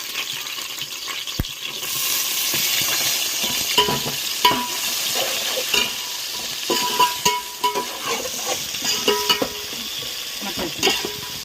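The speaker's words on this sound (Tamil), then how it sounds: "இது கூடயே நம்ம கட் பண்ணி வெங்காயத்தை சேர்த்துலாம் ரெண்டுமே கட் பண்ணி வச்சுருக்கேன் சேர்த்துறேன்" Chopped onions and whole spices sizzle and fry in hot oil while a utensil stirs them in steady scraping strokes, close and continuous, with no voices.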